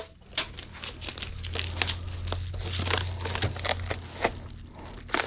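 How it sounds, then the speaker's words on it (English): A piece of tape pulled and handled while wrapping a large item for shipping, with close crinkling and tearing sounds in bursts over a low steady hum. "we will grab a piece of tape"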